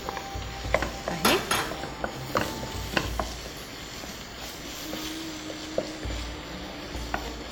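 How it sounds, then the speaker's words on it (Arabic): Uncooked rice mixed by hand or spoon into prepared meat stuffing for mahshi, with soft stirring, scraping and several sharp utensil clinks against a bowl, close and without talk. "ونحلط الرز مع اللحمه على بعضه."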